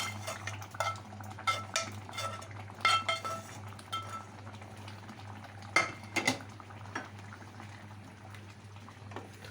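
Fried taro pieces stirred into simmering gravy in a pot, with soft clinks of a utensil against the metal and light bubbling beneath, a few sharper knocks standing out.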